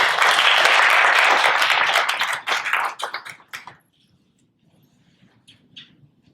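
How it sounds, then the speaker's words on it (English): Applause at a school board meeting honouring school staff: a room of people claps steadily for a few seconds, then the clapping thins into scattered claps and fades to near silence. "Let's give all of these individuals a huge round of applause for their hard work."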